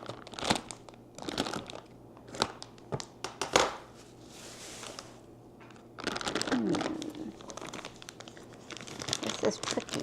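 Plastic grow-kit bag for shiitake mushrooms crinkles and crunches as it is handled and cut open, with irregular close rustling bursts, louder in the second half, and a few quiet voice sounds.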